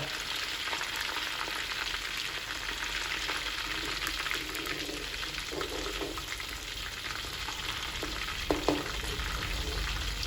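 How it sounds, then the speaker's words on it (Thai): Old-style Thai shrimp cakes with grated coconut deep-fry in hot oil, producing a dense, continuous sizzle and crackle close by, with a couple of faint clinks and no talk. "ทอดมันกุ้งแบบโบราณเลยนะ ใส่มะพร้าวนะ ใส่มะพร้าวด้วยค่ะ ใส่มะพร้าวขูด ทอดไปเรื่อย ๆ"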